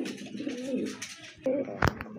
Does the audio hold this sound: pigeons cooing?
yes